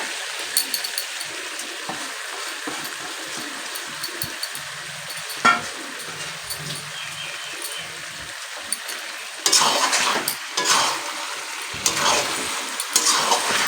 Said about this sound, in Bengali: এবার রসুনটা দিয়ে কিন্তু আমি ভালো করে কষাবো একটুখানি।